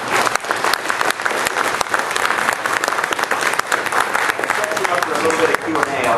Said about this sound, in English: my final compensation is applause